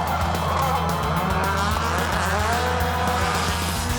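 Subaru rallycross race cars roar through a turn, engines loud and continuous with tire squeal and skidding, close and busy throughout.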